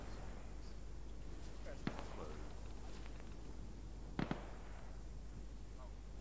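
Distant gunfire in the military shooter game Arma 3: a few sharp, far-off cracks, one single and one quick pair, over steady background hiss, with people talking.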